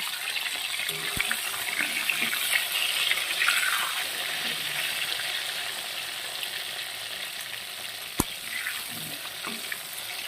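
Pointed gourd (potol) frying lightly in a pan for a vegetarian milk-potol dish, giving a steady, close sizzle that runs throughout with one sharp click near the end.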